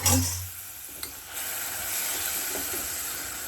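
Veg roll filling roasts in a hot pan: a short clatter at the start, then a steady soft sizzle and hiss with faint scraping, and no talking.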